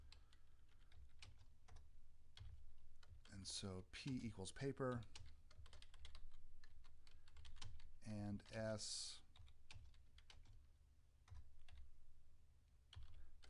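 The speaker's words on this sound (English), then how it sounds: "I'll put a little note to myself that r equals rock" Computer keyboard typing runs through the scene with steady clicks while someone talks over it, the keystrokes faint and close, pausing around his speech.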